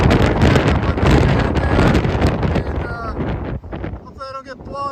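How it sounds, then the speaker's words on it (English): Strong gusty wind roars loud and close through trees during a high-wind day, buffeting the microphone, then eases toward the end as a voice briefly speaks. "I don't know if you can hear that wind blowing, the trees blowing."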